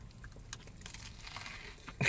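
Crisp crunching of a Blazin' Hot Cheetos chicken sandwich being chewed close up, scattered crackly bites throughout, ending in a louder burst of noise.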